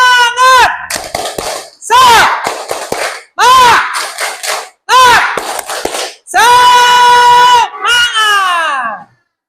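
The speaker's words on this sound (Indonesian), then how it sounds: "Coba tepuk semangatnya mana?" A classroom of children chants a tepuk semangat cheer in unison, loud sung bursts alternating with rhythmic group clapping, ending on a long sustained shout.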